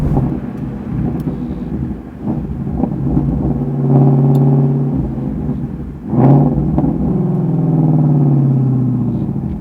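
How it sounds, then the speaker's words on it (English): A 2017 Ford Mustang GT350's flat-plane-crank V8 exhaust burbles and rumbles up close, swelling with revs and a sharp pop around the middle before settling into a low growl. "just that first little burble of the exhaust"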